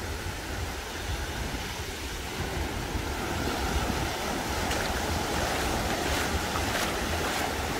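Sea waves roll onto a beach in Goa, India: a continuous, loud surf wash with wind buffeting the microphone and no voices.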